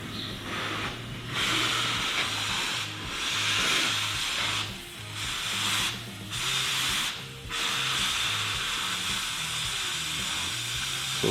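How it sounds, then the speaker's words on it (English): A cutting tool hisses steadily through the factory weld inside a 1970–81 Camaro's wheel tub area, a harsh, close grinding rush that pauses briefly several times over a low, pulsing drone. "Looks like Heath is cutting on the inside of the factory weld"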